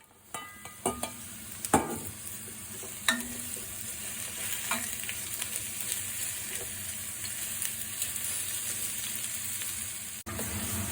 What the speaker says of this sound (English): At first, put cooking oil on the pot, then stir fry garlic and the onions.